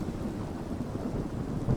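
Rain and rolling thunder from a Minecraft thunderstorm, a steady low rumble under continuous rainfall, fairly quiet and constant with no voices.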